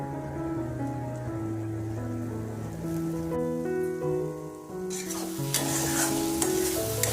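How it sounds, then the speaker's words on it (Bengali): Spices fry and sizzle in a covered pan for a raw jackfruit dish, with a steady close crackle and occasional stirring scrapes under tonal background music, growing brighter toward the end. "এবার মশলাগুলোকে খুব ভালো করে কষিয়ে নেব।"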